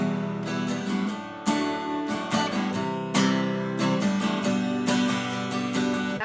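Four chords played through in turn on an instrument for worship songwriting, each struck with a bright attack and held with steady strums, close and fairly loud with no talking.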